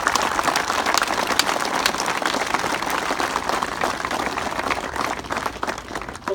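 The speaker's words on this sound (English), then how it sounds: "Please, just one more big round of applause for Rob Durfee and the city of West Jordan." Audience applause at an outdoor memorial unveiling in West Jordan, a loud continuous crowd of clapping hands that holds steady before tapering at the very end.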